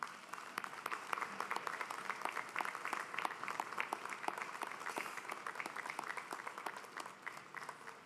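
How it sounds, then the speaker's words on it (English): Sustained applause from an audience at a convocation ceremony, honoring the loved ones who supported the graduates; dense, steady clapping fills the hall throughout, fairly distant and even. "give them a round of applause"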